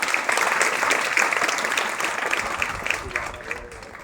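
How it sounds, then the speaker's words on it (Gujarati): An audience at a retirement farewell ceremony gives dense, sustained applause that fades slightly toward the end, with faint crowd murmur underneath. "જોરદાર તાળીઓ થઈ જાય."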